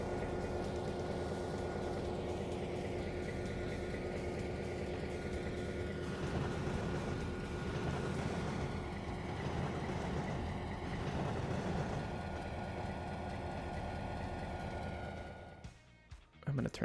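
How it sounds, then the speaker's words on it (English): Trainz video game train running: a steady rumbling drone of a moving train with a faint continuous tone, unbroken for most of the stretch before cutting off near the end. "How's the train noise?"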